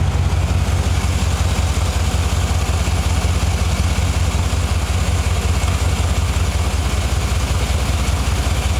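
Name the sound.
2013 GMC 2500HD engine idling with exhaust leak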